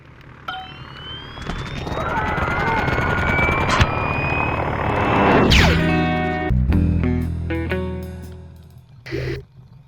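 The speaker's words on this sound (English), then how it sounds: "We've received reports of a low-flying aircraft in your area." Low-flying aircraft in the video game I Expect You To Die, its engine roaring in a loud sustained drone that swells and then breaks into crashing impacts and clattering debris.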